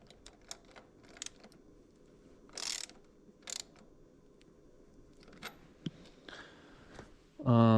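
A new nut spun by hand onto old, worn threads of a bicycle regen torque arm gives quiet, scattered metallic ticks and clicks, close by, with a brief louder clatter near the end and faint speech in the background.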